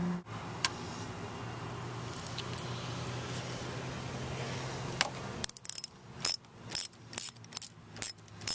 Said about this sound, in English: stick the 10mm wrench in there and unscrew it